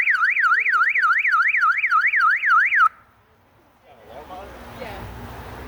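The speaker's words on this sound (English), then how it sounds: "That's the siren. That's a siren." A police motorcycle siren wails loudly, sweeping up and down in fast regular cycles, then cuts off abruptly, followed by quiet background noise and faint voices.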